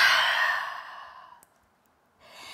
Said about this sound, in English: Take a cleansing in breath. Exhale, let go of perfection.